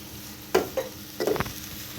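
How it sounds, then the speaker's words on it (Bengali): Meat and spices frying in a pan while being stirred, with a steady soft sizzle and a few sharp scraping clatters of a spoon against the pan, close and without talk. "মশলা দিয়ে নেড়ে দেব"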